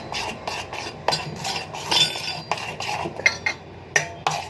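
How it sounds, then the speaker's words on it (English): Cake batter being mixed by hand in a bowl, a spoon or whisk scraping and clinking against the sides in quick irregular strokes, close and fairly loud with no talking. "Now I'm going to mix this in."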